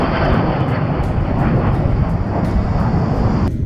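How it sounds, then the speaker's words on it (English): A fixed-wing passenger airliner taking off on a flight to Salt Lake City, its engines giving a loud, steady broadband roar heard from inside the cabin, with no talk over it. "getting ready to take off on our flight to Salt Lake City"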